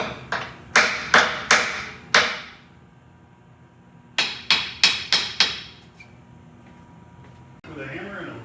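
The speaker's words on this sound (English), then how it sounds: "let's see if we can knock it loose" A hammer striking a rod against a tight alignment ring on a molding machine, two bursts of five sharp metallic knocks with ringing decay, close and loud, followed by a low rustle.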